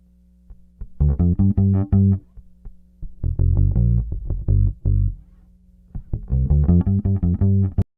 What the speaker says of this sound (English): That's the sound of the bass with nothing.